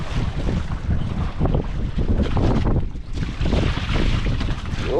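Strong wind buffets a fishing boat at sea, a loud, continuous rushing roar with gusty microphone rumble and the low drone of the boat underneath, no voices.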